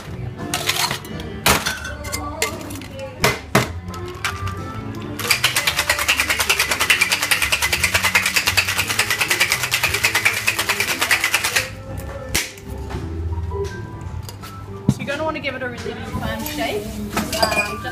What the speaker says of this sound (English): we're just going to shake that with ice